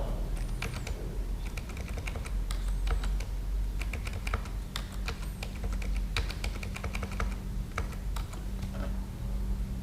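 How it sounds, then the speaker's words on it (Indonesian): Rapid, close typing on a computer keyboard while formatting a Microsoft Word 2016 document, with a steady clatter of individual key presses including the Tab key, irregular bursts and brief pauses, and no talking over it. "kemudian tekan tombol tab pada keyboard"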